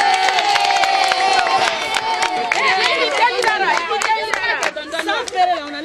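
A crowd at a gathering claps and cheers loudly, with shouts, whoops and overlapping voices forming a busy, lively roar that thins out toward the end.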